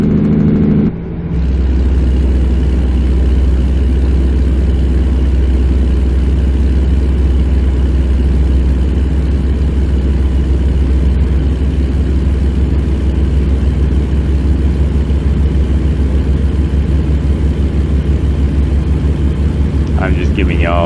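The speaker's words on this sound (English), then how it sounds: "giving y'all, for y'all like the engine, some good engine sounds that you hear and enjoy the ride" A heavy truck engine in American Truck Simulator drones steadily and loudly for a long stretch, a constant low rumble with little change in pitch.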